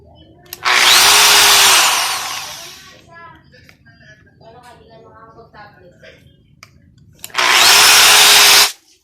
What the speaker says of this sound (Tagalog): Testing na natin itong binigay na grinder.